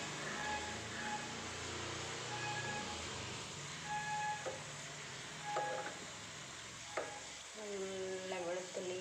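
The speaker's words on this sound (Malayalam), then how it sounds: "നല്ല വെളുത്തുള്ളീൻ്റെ വറുത്തിടുന്ന മണം വരുന്നുണ്ട്. ചുവന്ന് വരുന്നുണ്ട് വെളുത്തുള്ളി." Garlic fries in a pan with a steady close sizzle and bubbling, broken by occasional spatula scrapes and faint high whistling tones, with no talking.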